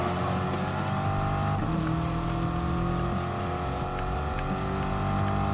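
A racing car's engine in Gran Turismo Sport at Brands Hatch Grand Prix, droning loudly and continuously at high revs with steady harmonic tone throughout.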